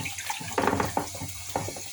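Water runs from a tap while tomatoes are rinsed under it for home-canned winter tomatoes, with several splashing, sloshing bursts as they are turned in the stream, close by.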